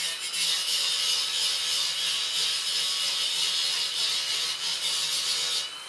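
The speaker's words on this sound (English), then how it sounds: "Well, I will grind that a little bit more." A tapered pin being ground: a steady, bright abrasive rasp of grinding runs loud and unbroken through the whole clip, with no talking.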